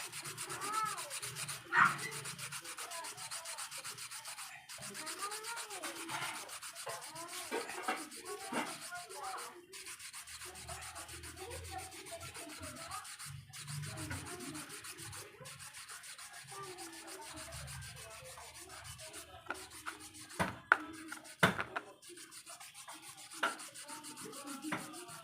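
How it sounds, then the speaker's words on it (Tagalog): Hand sanding the metal shaft of an Astron 18-inch stand fan with sandpaper, a steady close scratchy rubbing with repeated back-and-forth strokes and a few sharp knocks, no talking. "Ayan, lihain lang natin."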